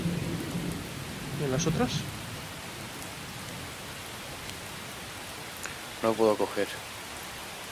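Constant hissing downpour with low rumbling, heavy rain in the video game Miscreated, continuing under two brief bursts of people talking.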